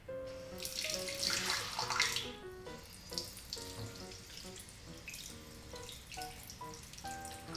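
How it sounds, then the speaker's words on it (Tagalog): Water from a kitchen tap runs into a sink while raw chicken is rinsed under it for fried chicken, a steady splashing stream broken by irregular clunks and sloshes as the pieces are handled, fairly quiet and close. "Hinuhugasan ko lang ito sa tubig."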